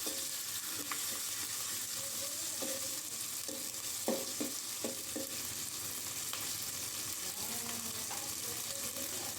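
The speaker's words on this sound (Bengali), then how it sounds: "পেঁয়াজ কুচি দিয়ে পেঁয়াজটাকে একটু ভেজে" Chopped onions fry quietly in a pan with a soft, continuous sizzle, broken by a few spoon scrapes and clinks against the pan.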